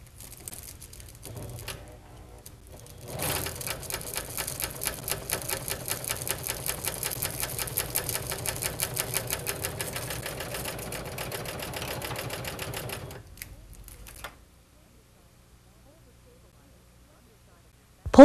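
A Husqvarna Viking Huskylock 936 serger stitches a blanket stitch through fabric and stabilizer in a rapid, even mechanical chatter lasting about ten seconds. Quieter handling noise comes before it, then the machine stops and near silence follows.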